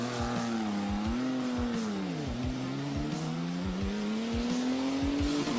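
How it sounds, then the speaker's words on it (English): A two-seater Indy car laps a hilly circuit at around 180 mph, its engine a loud, steady high-pitched drone that bends down and back up through a corner, with rhythmic thumps from bumps or kerbs beneath. "take turns hopping in the backseat of a two-seater Indy car behind the legendary Mario Andretti"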